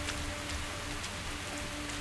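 Steady rain in the game S.T.A.L.K.E.R. patters evenly on surfaces, a dense continuous hiss with faint tonal hum underneath and no voices.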